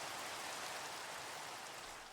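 Steady rain falls in a dense, even hiss of drops, faint and continuous with no voices or other sounds.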